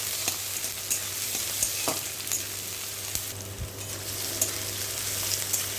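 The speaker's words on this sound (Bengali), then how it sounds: "কড়াইতে তেল দিয়ে দিলাম, পেঁয়াজ কুচি দিয়ে দিলাম, লঙ্কা কুচি দিয়ে দিলাম" Chopped onion and green chili frying in oil in a wok and being lightly stirred, with a continuous close sizzle and occasional spatula scrapes and taps.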